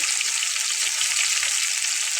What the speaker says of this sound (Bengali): এটাকে একটু ঘন ঘন উল্টে পাল্টে ভেজে নিতে হবে